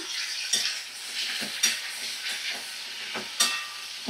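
A vegetarian curry with green chili sizzles steadily as it fries in a pan in very little oil, with a continuous hiss broken by three sharper bursts of stirring, close and moderately loud.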